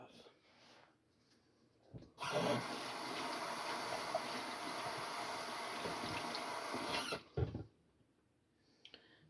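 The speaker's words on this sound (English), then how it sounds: "Rinse that off." An apple rinsed under a running kitchen tap, with a steady, loud rush of water lasting about five seconds that starts and stops abruptly, and quiet noises before and after.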